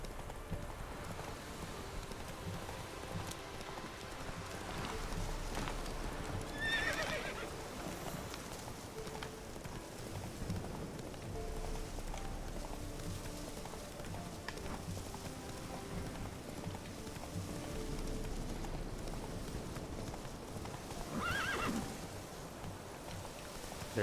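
Roach the horse clip-clops at a trot in a video game, quiet rhythmic hoofbeats over soft ambient rain, with a couple of faint whinnies rising briefly.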